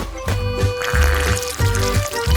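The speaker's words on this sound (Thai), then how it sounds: "เติมน้ำพึ่งลงไปจนเต็ม เราต้องการน้ำพึ่งจำนวนมากๆ" Honey is poured into a large bottle over cookies, a close series of thick glugging pours in short rhythmic bursts, heard without talk.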